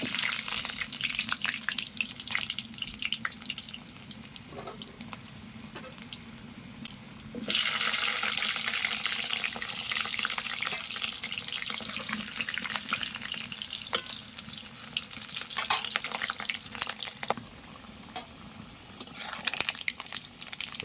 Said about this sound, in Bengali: দেখো তেলটা গরম হয়ে গেছে এর মধ্যে দিয়ে দেবো পাঁচ ফোড়ন এবার দিয়ে দেবো আলু